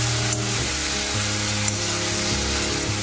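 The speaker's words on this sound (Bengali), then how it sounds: "পেঁয়াজটা দেখুন আমার মোটামুটি ভাজা হয়ে গেছে" Chopped onions with garlic, a little salt and turmeric frying in a pan, making a loud, continuous sizzle with faint stirring, and no one speaking.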